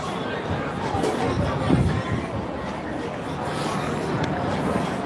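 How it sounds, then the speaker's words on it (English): A busy pedestrian crowd around the Duomo area in Milan on a Friday evening fills the air with a steady, diffuse murmur of chatter, with nearer voices passing at times. "Here's your crowds for it."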